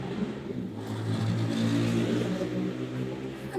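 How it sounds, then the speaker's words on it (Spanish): A motorcycle engine drones steadily close by, its low rumble swelling slightly in the middle as it passes, with no voices over it. "Perdón por la moto"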